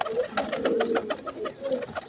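Pigeons in a loft, a steady chorus of low cooing calls from several birds close by, with no voices.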